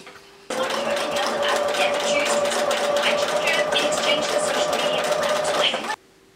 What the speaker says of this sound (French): on va venir coudre du coup de ce côté-ci à 1 mm du bord